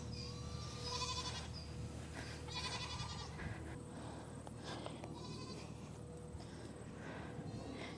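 Goats bleat repeatedly on a farm among horses and donkeys, their loud, wavering calls coming in several bursts over a steady outdoor background with a little distant talk.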